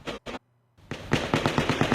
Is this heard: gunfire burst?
yes